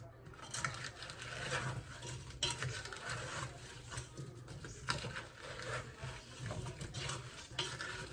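Apples for apple butter being stirred in a pot over heat, a steady scraping and churning with light sizzle and clinks of utensil against the pot, continuous and close.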